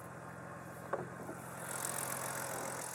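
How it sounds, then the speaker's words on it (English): A BMW engine idles steadily with a low, even rumble and a light rattle, with a brief click near the start and a slight rise in hiss later on. "So listen to the engine."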